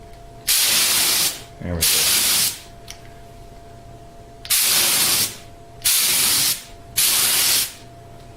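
A spray gun lays a light coat of finish on a custom electric nine-string guitar in five loud, close hissing bursts of about a second each, with a brief voice between them.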